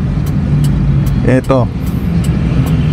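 Heavy, jammed road traffic gives off a continuous low hum of idling car and bus engines, with a brief spoken word cutting in near the middle.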